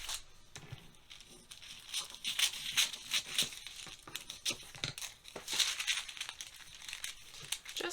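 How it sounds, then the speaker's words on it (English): A piece of paper is handled at a sewing table while a sleeve pattern is adjusted, giving irregular crinkles, rustles and soft crumpling bursts that are close and moderately loud, with no talking. "let me get a little bit of piece of paper here"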